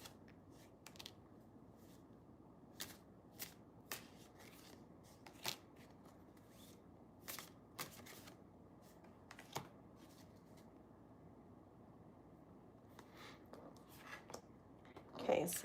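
Tarot cards being shuffled and pulled in a quiet room: a run of crisp, brief riffling and flicking bursts at irregular intervals, moderately close, with soft background hiss and an occasional faint voice.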